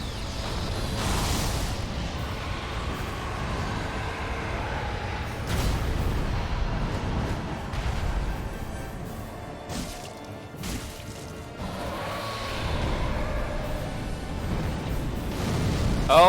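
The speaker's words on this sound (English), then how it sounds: "He can do in-place down fire breath." A dragon's fire breath attack in Dark Souls III, a long roaring blast with crashing impacts and whooshing bursts, loud and sustained across the whole stretch.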